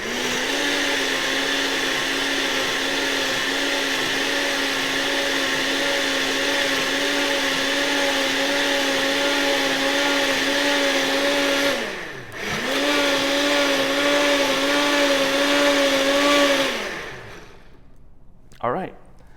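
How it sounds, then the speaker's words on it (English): A kitchen blender whirs loud and steady as it blends a smoothie of yogurt, fruit and milk, its motor dipping briefly midway before spinning up again, then stopping near the end with a light clunk. "You can see there while it's blending, it takes a little bit to catch all that because the liquid gets to the bottom"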